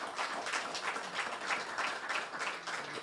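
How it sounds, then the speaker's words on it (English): An audience at a local government masterclass on property applauds, a steady, faint wash of many hands clapping that holds evenly for about three seconds with no voices heard over it. "let us applaud the Municipal Council of Mbabane for organizing these masterclasses"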